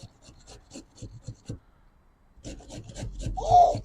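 Beetroot being cut for homemade wine: a run of quick, rhythmic knife strokes, a brief pause, then another burst of cutting, close and fairly quiet.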